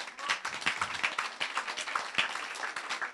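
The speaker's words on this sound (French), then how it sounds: "encore un tonnerre d'applaudissements pour lui" Sustained applause from a live audience for slam performer Sensei Shogun at an event in Brussels, a dense steady patter of many hands clapping at moderate distance with no voices over it.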